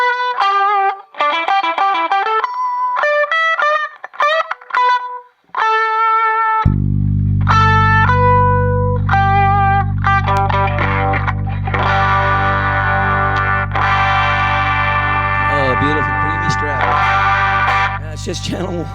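Stratocaster electric guitar played through several amps, including a small Soldano for echo, heavily processed with distortion, chorus and echo effects; choppy melodic phrases give way to a sustained droning, distorted wash.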